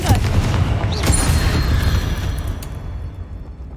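A Confringo blasting spell explodes in Hogwarts Legacy, a loud booming burst followed by a rolling, decaying rumble with crackling debris.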